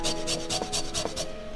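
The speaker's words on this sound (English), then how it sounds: "we're gonna microplane some ginger, about maybe 1 to 2 cloves" Ginger being grated on a microplane, a steady back-and-forth rasp of about seven even strokes, close and fairly loud with no talking.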